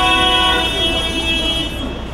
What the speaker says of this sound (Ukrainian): Знервовані водії безперервно сигналять.